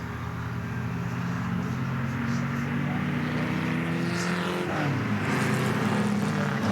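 A BRM Type 25 Grand Prix racing car, number 7, runs at the Goodwood Revival's 1957 British Grand Prix celebration with a steady, loud engine drone whose pitch climbs toward the end.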